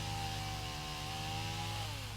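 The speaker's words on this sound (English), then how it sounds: "You hear the chainsaw?" A neighbor's chainsaw cuts something down in the distance beyond a garden. It makes a steady, droning buzz at moderate, far-off volume, dipping slightly in pitch near the end.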